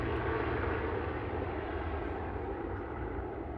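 Steady roar of an Ethiopian airliner departing Manchester Airport, a broad, loud jet rumble heard from a distance and slowly easing as it moves away.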